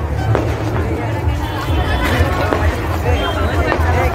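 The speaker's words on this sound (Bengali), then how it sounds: "খুবই ভিড়" A dense crowd murmurs and chatters at a busy New Year fair in Khumulwng Park, Tripura, with the voices forming a steady, close babble throughout.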